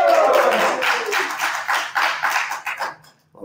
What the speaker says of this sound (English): if you could just applaud or shout and say hello